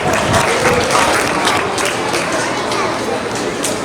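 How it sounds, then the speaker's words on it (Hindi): A school audience at a science lab inauguration and farewell ceremony breaks into loud, dense applause that carries on steadily for a few seconds, with crowd noise mixed in. "आपकी तालियों में आवाज़ में गड़गड़ाहट देखो"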